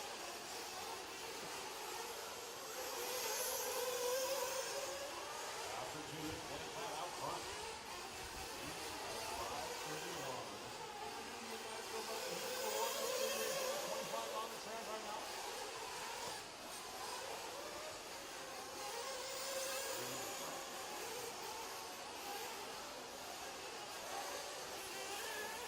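Intermediate nitro RC buggies racing on a dirt track, a steady high-pitched engine whine that swells and fades as cars pass, continuous and moderately distant with no talk.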